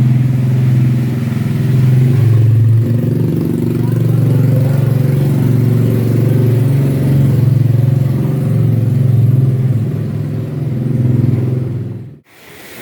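A motorcycle engine at a gold mine tunnel entrance rumbles steadily and loudly nearby, idling and revving with a low, throaty drone before cutting off abruptly near the end.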